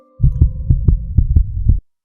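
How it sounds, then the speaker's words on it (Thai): Heartbeat sound effect in a Thai ghost story, a loud, close series of about eight deep thumps in an uneven rhythm, heard alone over a low hum. "หัวใจเต้นไม่เป็นจังหวะ"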